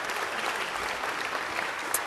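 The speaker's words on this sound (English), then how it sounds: "So let's give them another round of applause." A crowd at an Italian American heritage celebration gives council district staff another round of applause, a dense, even wash of clapping that holds steady at moderate loudness.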